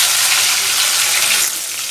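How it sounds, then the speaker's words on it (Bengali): Rui fish sizzles crisp in hot oil with a steady, dense, hissing crackle that runs loud and unbroken for two seconds before easing slightly. "তা মাছগুলোকে একটু কড়া করে আমি ভেজে নেবো"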